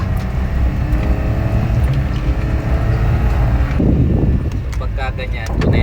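An engine runs steadily and strains as it climbs a steep incline, a loud, continuous low rumble with a rising surge near the end, while someone talks over it.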